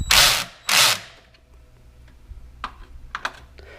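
Air vent cover being fitted back onto a Toyota Tacoma during a spark plug job, with two loud broadband bursts of handling and rustling up front, then a few sharp clicks and ratcheting taps as a bolt is snugged, no talking.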